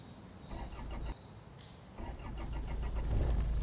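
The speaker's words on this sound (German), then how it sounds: "Motor an und losfahren, komm." Car engine in the Mission Luftrettung video game starts up and revs as the vehicle pulls away, a steady mid-pitched motor drone rising in loudness toward the end.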